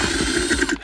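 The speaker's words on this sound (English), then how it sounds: "We're going to remove these 4 bolts." Ratchet wrench loosening 10mm hex head bolts from the center console of a 4th-gen Toyota Tacoma, giving a quick run of close, dry clicking under a mechanical hum before it stops.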